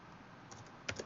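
Brief computer keyboard typing while entering a CSS file name, a few faint clicks clustered near the end against quiet room noise.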